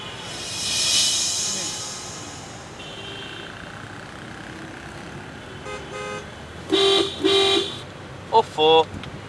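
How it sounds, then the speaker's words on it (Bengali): Car horns honk in street traffic outside a hospital: a few short, loud toots near the end, with faint background chatter and road noise before them. "হাসপাতালের সামনে হর্ন বাজিও না।"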